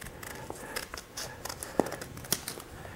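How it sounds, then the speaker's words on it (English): Scissors cut a circle out of paper, giving soft, sparse snips and light paper rustle at an irregular pace, close but quiet, with no voices. "I'm going to cut out the circle here."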